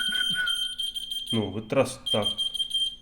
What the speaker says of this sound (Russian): Чтобы завелся и пошел пиликать.